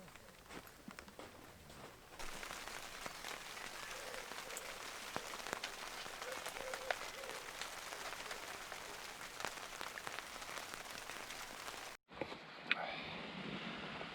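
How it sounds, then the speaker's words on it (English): Rain pours down in Norfolk in a dense, steady hiss with scattered drops pattering on a surface, then cuts off briefly near the end. "Really raining now."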